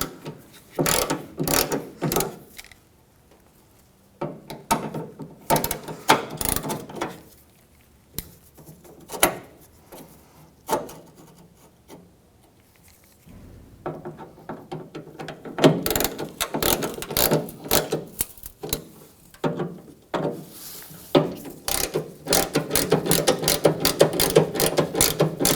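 A ratchet tightening the tailgate hinge bracket bolts on a 1997-2003 Ford F-150, close rapid clicking in repeated bursts with short pauses between strokes, growing busier and denser toward the end.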